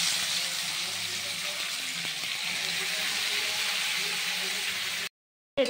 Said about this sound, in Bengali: এবার দিয়ে দিচ্ছিলাম সবজিগুলো।